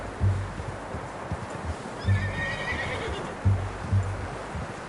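A horse in Red Dead Redemption 2 whinnies and snorts several times in low, breathy bursts over a steady outdoor game ambience, with a faint higher whine drifting through the middle.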